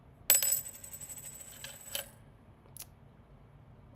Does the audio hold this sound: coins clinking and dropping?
yes